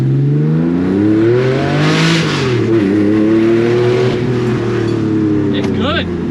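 A Porsche 964 with a 6-speed gearbox swap accelerating hard, its flat-six engine note rising loud and close, then dipping briefly at a shift before climbing again under steady road roar.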